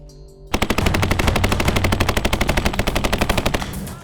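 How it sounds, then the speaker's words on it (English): Simulated gunfire in a military training exercise: a loud, close, rapid automatic burst of evenly spaced shots lasting about three seconds after a brief quieter lead-in. "candidates must prove their grit under the added stress of simulated gunfire and smoke grenades"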